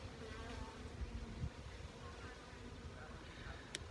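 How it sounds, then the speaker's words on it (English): Steady, dense buzzing of many honey bees close by during a hive inspection, a continuous droning hum with no voices. "Bees are at work on that one."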